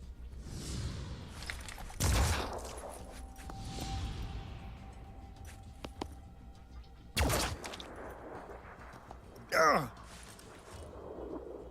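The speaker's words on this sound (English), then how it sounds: "He's gonna get 3 shots." Pistol shots in the tactical video game Phoenix Point, three sharp, loud bangs spaced apart over a dim bed of game sound, with people talking throughout.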